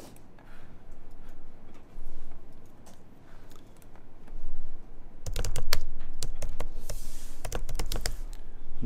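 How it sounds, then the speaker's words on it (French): Someone types on a computer keyboard, close and clear, with scattered soft key taps at first, then a quick run of sharp clicks near the end. "je tape dans Google, je tape cat Wikipédia"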